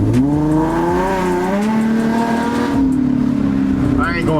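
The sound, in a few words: Infiniti G35 coupe engine running with random misfire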